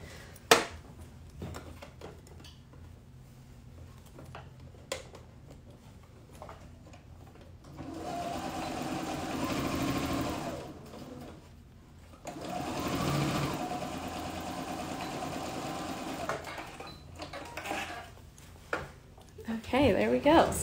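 A sewing machine runs in two sustained stretches of steady whirring stitches as a pant-leg inseam for elastic shorts is sewn, close and fairly quiet, with brief pauses and soft handling noises between runs.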